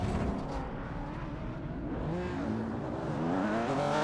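A race car engine in the iRacing sim roars steadily near the apex of a corner, its pitch sweeping and shifting as the car brakes and accelerates, continuous with no talk over it.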